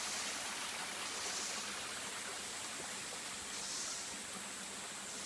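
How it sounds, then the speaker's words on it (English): Small waterfall in wilderness woodland, a steady broadband rush of falling water that holds even and unbroken throughout, with no voices over it. "You can see another little waterfall here."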